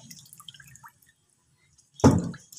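After a near-silent stretch with faint scattered drips, a sudden close burst of sour whey splashing and trickling erupts as fresh mozzarella curd is squeezed, loud and wet, then tapers off.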